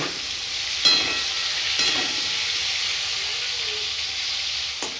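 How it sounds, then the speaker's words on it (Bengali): Fish heads sizzling in hot oil in a kadai after being flipped, a steady close hiss of frying broken by a few sharp clatters as pieces are turned. "মাছের মুড়োগুলো একটু উল্টে দিব"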